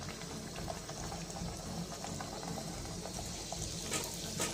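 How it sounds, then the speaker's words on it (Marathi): Bhature dough rounds frying in hot oil, a dense, steady bubbling sizzle that stays loud and even from start to finish. "आता आपण यामध्ये एक एक करून भटुरे टाकून घेऊया आणि छान तळून घेऊया।"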